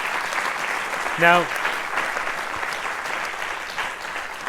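Audience applauding in a hall during a string quartet masterclass on Haydn, a steady broad wash of clapping throughout, with a voice speaking briefly over it.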